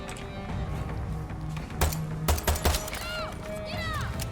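Gunfire in a modern open-world shooter on a tropical island, a few sharp shots in a quick cluster, moderately close, set against busy game ambience and scattered effects.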